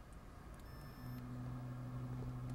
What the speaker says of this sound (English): we'll turn on the motor